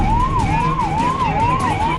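Ambulance siren wailing in a smooth rising and falling cycle, about four sweeps in two seconds, loud and close over a low traffic rumble, with no voices.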